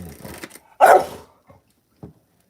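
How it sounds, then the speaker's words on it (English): A dog named Dylan barks indoors, one loud close bark followed by a couple of fainter short yips, with some low muffled noise just before. "We're going to not have this barking"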